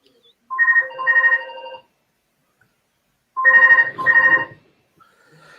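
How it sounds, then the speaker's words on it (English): A phone ringtone plays two loud, close melodic bursts separated by a pause of a couple of seconds, with no one speaking over it. "Somebody's phone's ringing."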